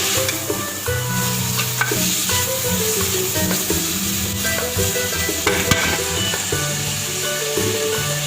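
Meat for a fajita sandwich sizzles and fries steadily in a pan, a loud continuous crackle with occasional stirring scrapes throughout.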